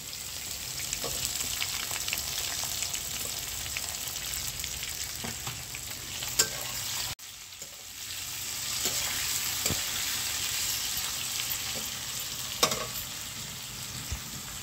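Onion, cinnamon leaf and bay leaf frying in oil for a village-style mutton curry, a steady close sizzle with occasional clinks of stirring.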